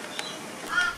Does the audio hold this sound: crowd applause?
no